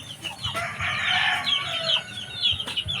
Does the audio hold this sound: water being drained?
no